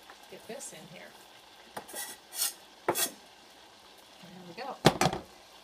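Vegan zucchini stuffing in a hot pan, with short bursts of sizzling and utensil scrapes as it is stirred, close and fairly quiet.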